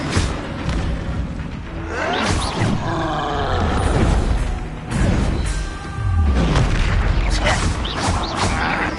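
Spell blasts booming in a Harry Potter video game, with loud explosive rumbles and crackling impacts over several seconds amid battle noise and grunting voices.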